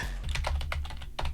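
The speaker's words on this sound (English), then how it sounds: "click right here, and you type in" Computer keyboard typing in a music production program, a close run of quick, crisp key clicks at an uneven rhythm, loud and alone.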